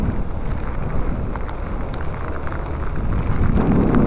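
Heavy rain while riding a motorbike in a raincoat, a dense loud roar of rain and wind noise that stays constant throughout and swells slightly toward the end.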